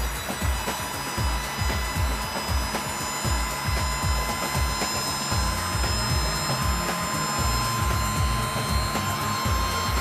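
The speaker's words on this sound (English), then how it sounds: "I'm going to use a heat gun to basically contract the heat shrink." Heat gun shrinking heat shrink tubing during an installation, a continuous loud blowing fan roar with a steady high whine and low fluttering motor pulses, running alone without talk.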